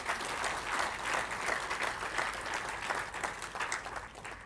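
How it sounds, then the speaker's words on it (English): Sustained applause from an audience at a university convocation ceremony, steady dense clapping throughout at even loudness. "A big round of applause for ma'am and the team."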